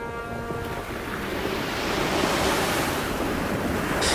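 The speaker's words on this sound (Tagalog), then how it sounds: "Tumataas na nun ang alon at napakalakas na din ang bawat hampas noon." Heavy ocean surf pounds a beach near a shoreline hut as a storm builds, a loud continuous roar of breaking waves mixed with gusting wind that swells toward the end.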